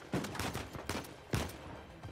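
Gunfire in the video game Uncharted 4 comes as a quiet series of sharp shots, with a few distinct bangs spaced across a short burst of play.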